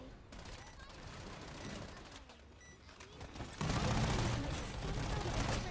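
Bursts of rapid gunfire from the video game Strinova crackle in the background, intermittent at first then swelling into a louder, denser volley near the end, with a voice speaking over it.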